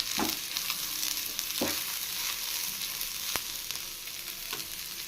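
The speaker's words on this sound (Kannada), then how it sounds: "ಈಗ ಫ್ರೈ ಆಗಿದೆ." Turmeric powder and grated coconut fry in a pan for a chicken sambar, giving a continuous crackling sizzle with a few sharp spatula scrapes and clacks against the pan.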